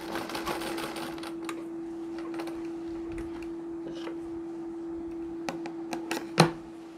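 A sewing machine stitching a Nauvari saree hums steadily at low volume with a constant motor tone, while faint clicks and taps of handling fabric break in here and there.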